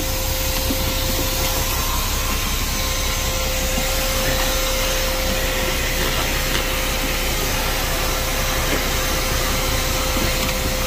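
A vacuum cleaner powered from an inverter roars continuously and loudly at close range, with a steady whine over the rushing airflow throughout.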